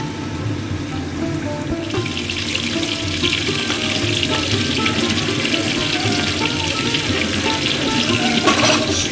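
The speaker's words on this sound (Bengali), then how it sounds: "আলুটা ভাজা হচ্ছে" Constant hiss of potatoes frying in oil, loud and close, with faint kitchen clatter and a short sharper burst near the end.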